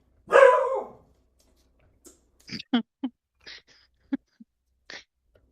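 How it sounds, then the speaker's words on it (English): A dog gives one loud, sharp bark, followed by several short, quieter yelps and whimpers spaced out over the next few seconds. "Is that why he's barking?"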